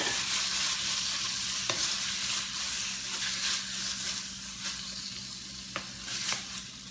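Pork frying and being stirred in an Icook pot, giving a dense, close sizzle with occasional clicks and scrapes of the utensil against the pot, steady and loud with no one speaking.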